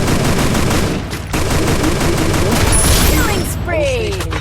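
Rapid gunfire bursts from the Free Fire video game, dense and continuous over the full stretch, with a brief lull partway through and zipping effect sounds near the end.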